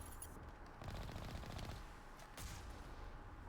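Gunfire in the video game Mass Effect crackles in a few quick bursts of rapid shots, fairly faint and distant, with short pauses between volleys.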